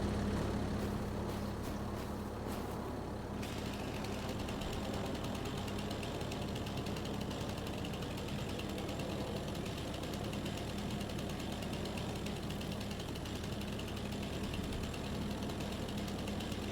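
A farm machine cutting across a large field in Farming Simulator 25, its engine a steady, close droning rumble that runs unbroken throughout, with a few light clicks near the start and no voices.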